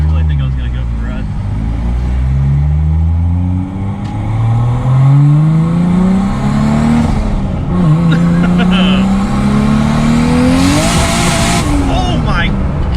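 A 700 hp Lexus IS300 launches hard with tires losing traction, the engine revving up in rising sweeps and the rear wheels spinning and squealing, loud and close, with occupants shouting over it.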